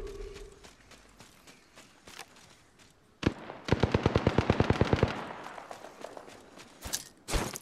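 Rapid automatic gunfire in the Apex Legends battle game, with sparse shots early on followed by a loud, close burst of evenly spaced rounds, then scattered distant shots.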